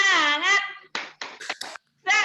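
A group performs a rhythmic clapping cheer during a teacher training session, with several sharp bursts of claps in a patterned sequence between loud chanted voices.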